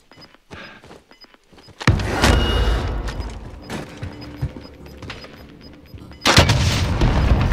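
Video game gunfire aimed at a vehicle, loud sharp bursts and heavy booming shots after a quieter opening with scattered clicks, a second strong burst near the end.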